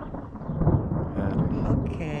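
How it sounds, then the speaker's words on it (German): Rolling thunder from a storm over the mountain valley of Leutasch, a broad continuous low rumble that swells and lingers for a couple of seconds, fairly loud and steady with no voices. "es donnert"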